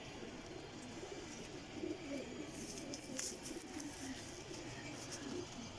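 Pigeons cooing in a loft of spotted flying pigeons, low soft repeated coos under a faint bird-chirp and background hiss, moderately near but quiet.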